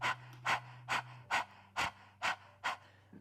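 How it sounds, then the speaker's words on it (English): Rapid open-mouth panting during a Kundalini breathing exercise: about seven sharp, evenly spaced breath bursts roughly every half second, close and fairly quiet, over a faint steady hum. "like you're panting like a dog."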